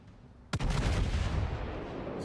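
Naval artillery from a warship in World of Warships fires over an island: one sharp, loud broadband blast followed by a long rumbling roll that slowly decays under steady background noise.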